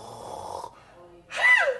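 A man imitates someone's snoring with a rough, rising nasal snore, heard once at close range after a brief pause that follows some talk.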